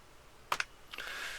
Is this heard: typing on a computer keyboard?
yes